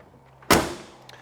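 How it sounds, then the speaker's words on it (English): A single solid slam as the door of a 1970 Ford Mustang Fastback shuts, one sharp broadband thud that rings briefly and decays in a quiet outdoor setting. "Door closes well."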